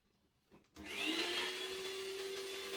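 A toner vacuum starts up and whines steadily while cleaning out a Brother toner cartridge, its motor spinning up after a couple of faint clicks and then holding a loud, even hum.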